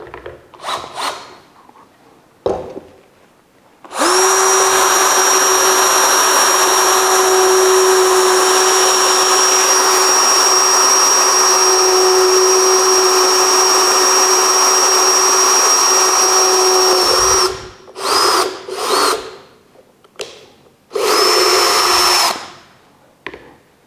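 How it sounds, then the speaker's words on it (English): A Bosch GSB 183-LI 18V cordless drill whines steadily at high speed drilling into wood for about fourteen seconds, then stops, followed by a few short bursts and one more brief run. "So let's drill now."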